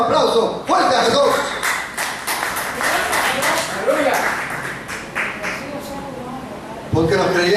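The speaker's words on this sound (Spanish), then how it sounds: "Den un aplauso fuerte a Jesús." Loud church congregation applause for Jesus, dense and sustained clapping with voices mixed in; it dips briefly early on, then swells again near the end.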